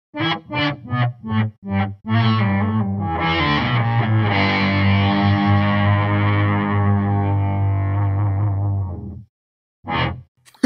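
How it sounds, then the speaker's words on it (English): A guitar through an EarthQuaker Devices delay pedal plays several short plucked notes, then swells into a long sustained, bowed-sounding tone with echoing repeats that fades out, followed by one brief note. "it does this really cool kind of like bowed guitar sound"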